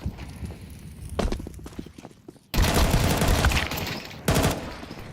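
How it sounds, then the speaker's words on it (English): Desert Eagle shots in a Counter-Strike esports match ring out as sharp bursts amid rapid gunfire and footsteps, with loud dense bursts of shooting in the later half. "that is a long-range Deagle headshot from Pyria"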